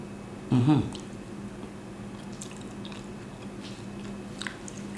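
A single short, wet bite into Jamaican ital ackee comes close and crisp near the start, then only faint room quiet follows.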